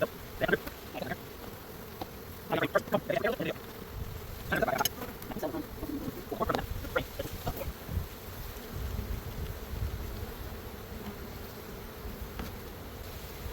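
A steady, low buzzing of many honey bees around a hive fills the background, with soft scattered knocks and rustles close by.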